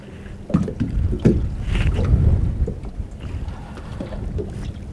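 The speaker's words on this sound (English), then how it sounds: "It's real windy out here today." Gusting wind buffets the microphone outdoors on Bull Shoals Lake, with uneven rumbling swells and small knocks of a boat.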